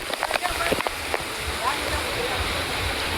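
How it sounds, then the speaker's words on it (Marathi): An artificial waterfall at a water park pours in a close, continuous rushing hiss with a few brief splashes. Voices can be heard early on. "धबधबा इथे चालू झालेला आहे, बघू शकता"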